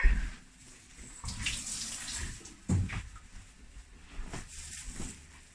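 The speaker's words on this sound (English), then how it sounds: "then you do want to rinse him with cold water" Water runs and splashes unevenly as a ball-jointed doll is rinsed with cold water under a tap after dyeing, with a few louder sloshes and knocks.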